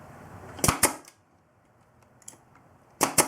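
An air-powered nail gun fires 1 1/4 inch brads into wood for a saw crate, giving sharp, close snaps in quick pairs with a quiet pause between the bursts.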